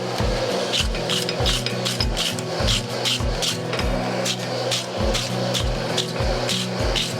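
Steady rhythmic scraping of a wire brush across hot forged steel, repeated strokes at an even pace, close and continuous with a faint underlying hum.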